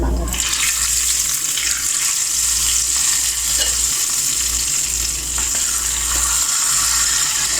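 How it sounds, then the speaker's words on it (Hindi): Loud, continuous sizzling and frying hiss as a hot tarka is poured onto dal, steady throughout with faint stirring clinks, no voices. "अब हम तड़का दाल के ऊपर डाल देंगे।"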